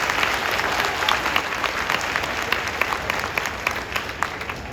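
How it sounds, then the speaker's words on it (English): A high school graduation audience applauds steadily, dense continuous clapping filling a large room for several seconds without speech. "Can we give Dr. White another round of applause? We can do better than that."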